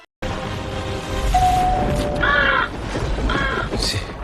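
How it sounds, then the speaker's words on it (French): A crow caws several times in short harsh bursts over a busy background of rumbling noise, moderately close. "C'est quoi ce truc? Un corbeau en armure?"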